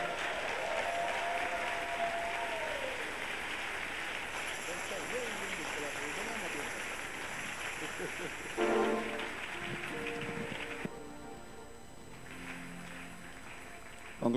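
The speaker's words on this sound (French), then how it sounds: "Pendant qu'il s'avance, nous acclamons le Seigneur." A church congregation at a worship service applauds and cheers steadily, a dense wash of clapping and voices that fills the room throughout, with a brief louder swell midway.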